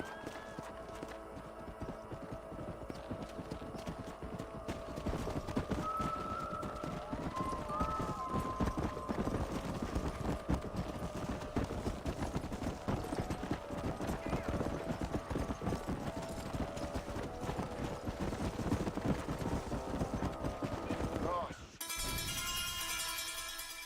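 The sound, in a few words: horses galloping and neighing in Red Dead Redemption video game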